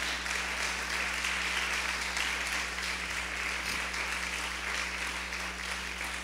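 Steady applause from a church congregation fills the whole stretch, even and continuous over a low background hum.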